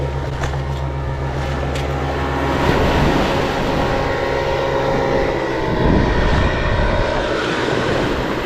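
Ultralight aircraft passing overhead at a Florida state park beach, a steady droning engine hum lasting throughout, swelling slightly as it goes by with no talking.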